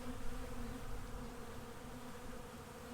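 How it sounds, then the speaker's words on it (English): Honeybees drone steadily on a hive frame during a hive inspection, a dense continuous buzz close by with no voices. "Here is a frame of bees, but no brood"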